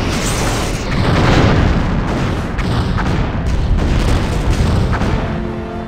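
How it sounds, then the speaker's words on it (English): A starship blows apart in a Star Trek space combat game, a loud booming explosion with crackling bursts and rolling debris rumble that swells, pulses and fades over several seconds. "The ship has been destroyed."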